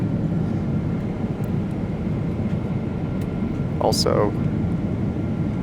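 Steady, loud airplane cabin drone during a flight from Seoul to Bangkok fills the whole stretch, with someone speaking briefly over the engine hum.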